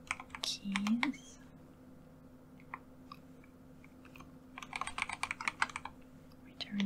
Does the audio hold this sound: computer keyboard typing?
yes